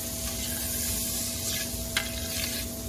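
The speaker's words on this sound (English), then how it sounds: "So you see how the butter's starting to melt?" Butter melting in a large pan for French toast gives a soft, steady hiss and sizzle with faint scraping and a couple of brief spitting bursts, close and even throughout without voices.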